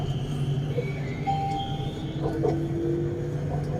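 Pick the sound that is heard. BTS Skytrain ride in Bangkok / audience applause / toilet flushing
BTS Skytrain ride in Bangkok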